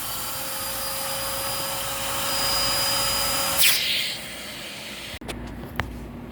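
A Kenmore Magic Blue vacuum cleaner runs with a steady, loud suction roar and a high whine, which shifts in pitch when the airflow changes partway through and then drops off near the end.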